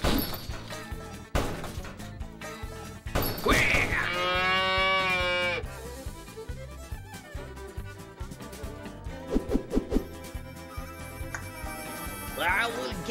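Cow mooing in the video game Run Cow Run, a long tonal moo in the middle over busy game music and effects, with other crashes and knocks around it.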